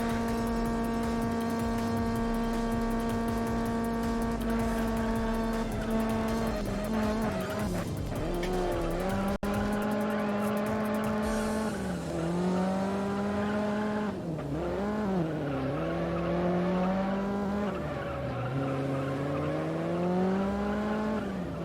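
A race car in the video game Juiced drives steadily, its engine droning at a constant pitch, then dipping and climbing through repeated gear shifts and revs, with occasional tire squeal and no talking.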